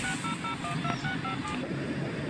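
A telephone keypad is dialed, a quick run of about a dozen short beeping tones pressed in steady succession over faint background noise.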